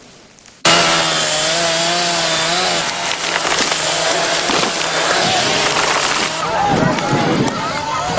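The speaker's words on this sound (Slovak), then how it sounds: "len čo sa z lesa ozvali motorové píly" Motor chainsaws cut into old forest wood at a Roma settlement: a loud, close, continuous buzzing whine that starts abruptly and holds for several seconds, with voices faintly underneath.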